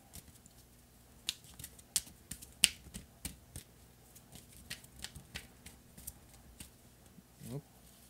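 Playing cards are drawn and laid down on a table in a quiet room: scattered soft snaps, flicks and light slaps at irregular intervals, close and faint.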